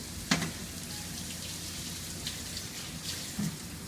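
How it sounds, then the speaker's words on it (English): Skin-down chicken sears in a hot pan with a steady, fairly quiet sizzle like soft rain, and a couple of small clicks from the pan, no voices. "You hear a nice sear in that pan."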